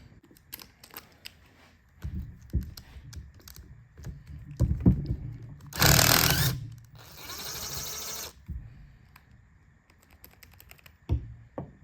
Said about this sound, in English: So I'm getting ready to scrape all this crud off of here